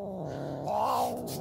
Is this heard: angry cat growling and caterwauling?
yes